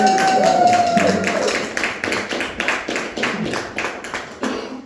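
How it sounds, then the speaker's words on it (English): An audience claps for a woman being introduced at an event, a burst of hand claps that thins into scattered, uneven claps over a few seconds, close and fairly loud. "Round of applause"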